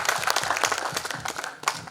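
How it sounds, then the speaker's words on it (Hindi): An audience at a tribute evening for lyricist Majrooh Sultanpuri applauds an honoree, giving a dense, continuous patter of many hands that sounds soft and somewhat distant throughout. "एक बार हम फिर से उनका तालियों से इस्तकबाल करेंगे"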